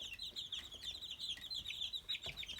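Young feather-footed chicks cluck and peep in a brooder with a soft, continuous, close-up chatter of many small birds.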